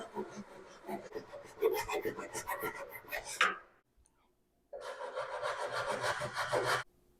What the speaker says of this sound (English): And now cut these pieces right here, but only go down like 1/2 inch.